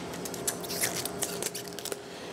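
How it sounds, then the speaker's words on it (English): Outer leaves being pulled off a fresh artichoke make a quiet series of crisp snapping and tearing clicks, irregular and close, with no talking. "We're gonna pull some of these outside leaves off."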